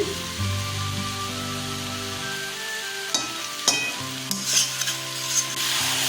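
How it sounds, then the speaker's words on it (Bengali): Ghee sizzles in a pan for a cabbage and green pea dish, a steady close frying hiss with a few sharp pops and spatters near the end, no talk. "চামচ ঘি দিয়ে দিচ্ছি"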